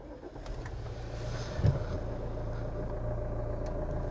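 Jeep Compass engine starting by push button in a workshop, a brief low thump near the midpoint followed by a steady idle rumble that continues to the end.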